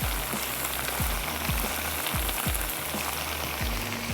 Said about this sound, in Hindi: हमने गाजर और जो किशमिश है इसको हम सौते करेंगे